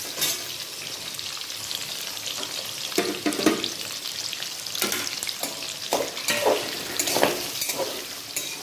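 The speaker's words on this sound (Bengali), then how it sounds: "যত ভাজা যাবে টেস্টটা তত বেশি ভালো হবে।" Mixed vegetables, potatoes among them, frying over a high flame with a steady hiss and sizzle, broken by scraping stirs and spatula knocks against the pan at several points, close and moderately loud with no talk.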